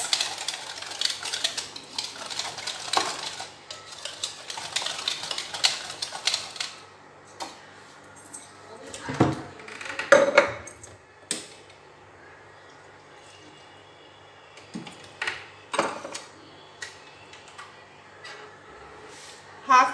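Semolina and yogurt being stirred together in a bowl, a run of quick clicking, tapping spoon strokes that thin out into scattered knocks and scrapes, close and fairly quiet.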